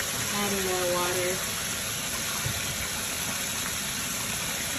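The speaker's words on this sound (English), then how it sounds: "Adding more water." Water running into a bathtub for an ammonia spiritual bath makes a steady, loud gushing rush that continues throughout, with a voice heard briefly at the start.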